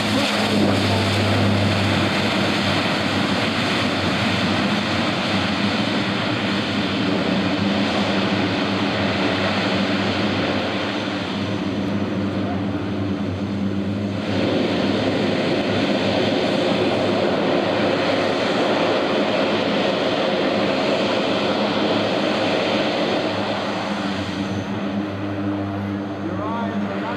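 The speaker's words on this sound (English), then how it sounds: "He can taxi the airplane backwards, back into forward thrust." Steady, loud turboprop engine drone from a C-130J-30 Hercules taxiing, with a constant low hum throughout, rising and falling slightly as the plane rolls along the ground.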